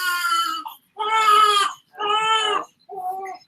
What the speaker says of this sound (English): If you hear crying, it's little baby boy.